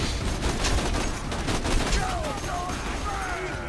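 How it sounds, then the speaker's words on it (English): Sustained gunfire from a Borderlands 2 firefight against a tough nomad enemy, dense rapid shots rolling continuously under a busy game mix, with voices talking over it. "Don't stop shooting!"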